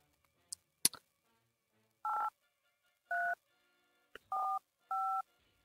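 A phone number is dialed in Babysitter Bloodbath: a few sharp clicks come first, then five evenly spaced keypad tones beep clearly, one after another, with no talk.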